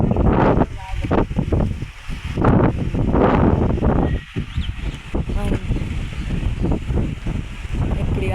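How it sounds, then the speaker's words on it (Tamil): Strong, gusty wind blowing through a village during the windy rainy season, buffeting the microphone in loud, uneven rumbling bursts that rise and fall throughout. "காற்று மட்டும் அடிச்சுட்டே இருக்கிறாங்க ஃப்ரெண்ட்ஸ்."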